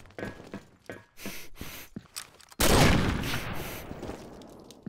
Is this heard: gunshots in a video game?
yes